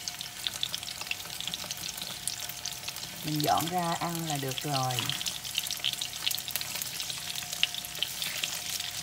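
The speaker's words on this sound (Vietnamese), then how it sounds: "Chiên xúc xích, nồi khoai lang tây đã xong rồi đó" Sausages fry in a small thin pan with a steady crackling sizzle throughout, while a person speaks briefly in the middle.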